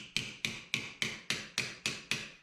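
Eight evenly spaced, ringing hammer taps on the metal body panel of a 1961 Parkwood Wagon, close and loud, each blow decaying before the next.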